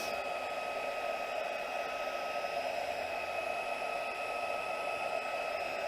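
A heat embossing tool blows hot air over embossed circles on a craft project, a steady, even whoosh of fan noise with a faint whine, unbroken from start to finish and fairly quiet.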